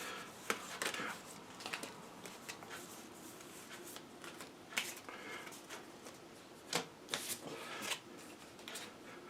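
Cards for the Alien: Fate of the Nostromo board game are shuffled by hand at close range, giving a series of quiet riffling bursts and soft slaps in an irregular rhythm.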